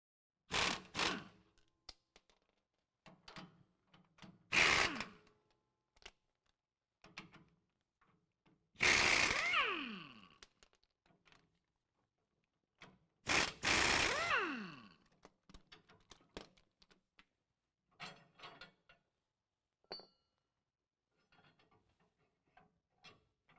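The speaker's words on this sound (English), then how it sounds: "we're going to remove our U-bolts by removing the 4 24 millimeter nuts at the bottom of the U-bolts" Wrench work on the 24 mm U-bolt nuts under a 2017 Ford F-250 Super Duty, giving several short ratcheting and metallic bursts separated by quiet gaps, close and fairly loud, with no talk.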